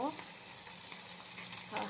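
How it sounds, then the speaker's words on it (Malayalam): Sardines sizzle and crackle steadily as they fry in hot oil in a pan, a soft continuous frying hiss with a few brief louder pops. "ആഹാ മീനൊക്കെ നല്ല സെറ്റായിട്ട് കിടന്ന് മൊരിയുന്നുണ്ട് കേട്ടോ"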